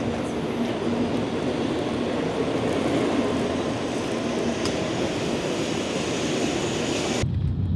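A high-speed train leaving Kyoto heard from inside as a steady, loud rumble with broadband rolling roar, continuous throughout and cutting off abruptly near the end.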